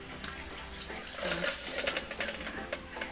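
Water pours and splashes steadily for a few seconds as it is poured out of a pot of duck, a continuous close-up gush with small gurgles and no voices.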